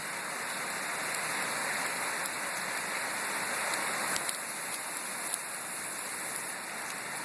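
Steady monsoon downpour in Henderson, Nevada hisses continuously nearby, with a few sharper drip impacts standing out from the dense wash of rain.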